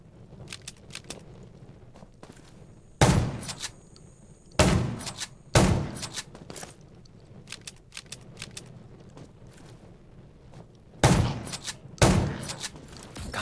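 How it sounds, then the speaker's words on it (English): Gunfire in the survival shooter Undawn, with zombies nearby. Sharp, loud single shots land in uneven bursts and clusters with gaps between them, over low background rumble and clatter. "Gunshots will attract more."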